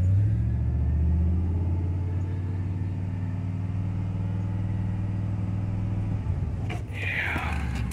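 Truck engine idling roughly with a misfire, a steady low rumbling idle with uneven pulsing, close by, ending in a brief burst of noise near the end.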